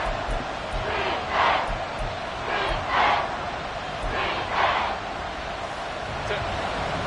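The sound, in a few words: Arrowhead stadium crowd roaring at a football game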